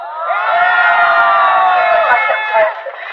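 A crowd at a Korean political rally lets out a loud, sustained roar of cheering and shouting, one dense swell of massed voices that fades out after about three seconds.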